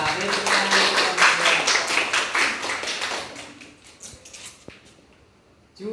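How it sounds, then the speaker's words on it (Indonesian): A classroom group claps for a team at a school awards announcement, a burst of brisk hand claps that fades out after about three seconds, leaving faint taps and near-quiet. "beri tepuk tangan untuk kelompok"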